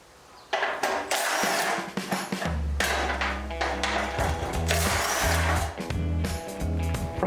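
A power tool whirs in repeated bursts while bolts come off the exhaust heat shield of a Can-Am Renegade XMR 1000, loud and close after a short quiet start.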